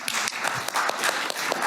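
Audience applause at a software engineering conference session, a dense burst of many hands clapping steadily for under two seconds at moderate loudness, with no talking over it.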